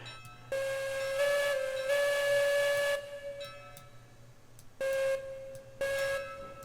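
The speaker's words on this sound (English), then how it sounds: "That's the whistle." Steam locomotive whistle in the train game Railroads Online: a long, loud steady blast that wavers briefly, then two shorter toots after a pause, over a low mechanical hum.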